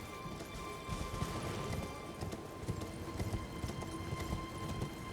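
A horse gallops in Elden Ring: a steady, fairly close run of hoofbeats that keeps going for the whole stretch over a constant background hum, with no talking.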